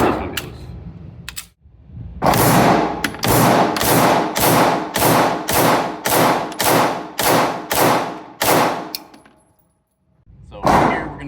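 Pistol shots from a Springfield Prodigy Comp firing 124 grain Syntech training ammo, about a dozen loud sharp reports in an evenly spaced rapid string, each with a decaying tail, followed by a pause and one more shot.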